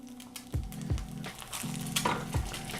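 An egg sizzles steadily in a non-stick pan, broken by several soft knocks and thumps as the pan is jerked to flip it without a spatula, close and fairly quiet.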